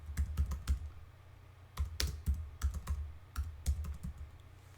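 Fingers type a code comment on a computer keyboard, giving quick clusters of crisp key clicks with short pauses between bursts. The keystrokes are close and moderately loud, with no talking.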